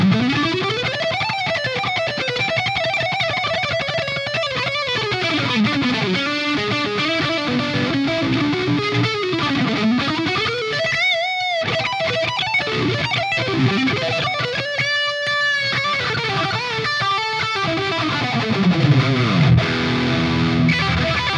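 An electric guitar plays through a Marshall JVM410H amp with reverb added, giving a loud, distorted, sustained lead tone with sliding, bending notes and a lingering wash for about twenty seconds, with no talking.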